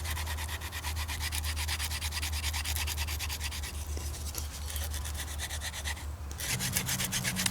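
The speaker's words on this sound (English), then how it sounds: "by scraping it with the spine of my knife, I'm creating these ultra fine fibers here" A knife spine scrapes a dead tulip poplar branch to raise fine fibers. The rapid, steady rasping strokes sound close and continuous, with a low hum underneath and no talking.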